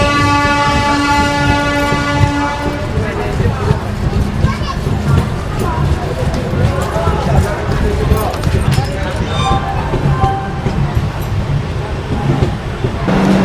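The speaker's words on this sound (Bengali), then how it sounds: "আমাদের ট্রেন ঢুকছে খুর্দা রোড জাংশন" The Puri Gandhidham SF Express rolls into Khurda Road junction with a sustained horn blast at the start, then a steady loud rumble and clatter of wheels, with people talking nearby.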